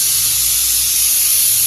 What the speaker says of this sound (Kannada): Cooker sound.